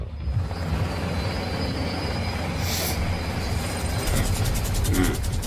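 A helicopter in the video game Fortnite: a continuous heavy mechanical roar with rhythmic whirring rotor thumping, loud and steady, with a brief high burst partway through; no voices.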